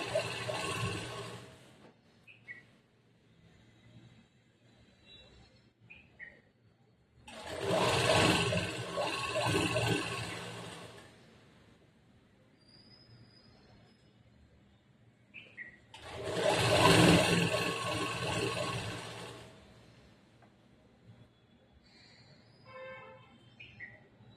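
Sewing machine stitching a straight seam along a one-inch strip of churidar semi-patiala pant fabric, running in two loud sustained bursts separated by quieter pauses with small handling noises.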